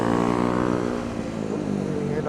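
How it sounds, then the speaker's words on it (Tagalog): Dense, continuous motorcycle and traffic engine roar on a busy city street near Makati Avenue, loud and close, steady throughout with no clear pauses. "Ingay ng motor."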